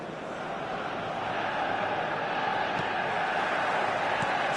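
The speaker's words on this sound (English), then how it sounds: "The stadium is full of noise and energy." A packed football stadium crowd in a video game roars as a steady, dense wash of cheering and chanting, loud and continuous with no single voice standing out.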